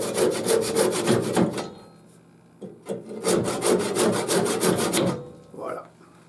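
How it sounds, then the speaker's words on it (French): Hand saw cutting through wood to finish a small turned box, with quick rhythmic rasping strokes in two bursts separated by a short pause, close and fairly loud. "on prend la scie et on termine le travail"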